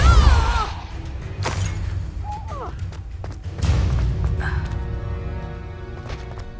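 A Depulso spell is cast in the Hogwarts Legacy video game: a loud, sharp burst followed by crashing thuds, with a second forceful blast a few seconds later amid yelping game sounds.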